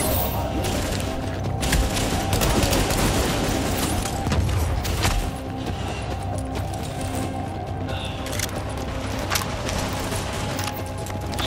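Magnum gunfire in The Division cracks out in sharp, loud reports spaced across a dense, noisy battle bed, with the shots standing out briefly over continuous rumbling combat.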